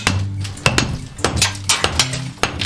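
A chisel is hammered against old patched masonry in the wall of an 1840 root cellar, giving sharp, irregular metallic strikes and scraping knocks, close and loud, with no talk.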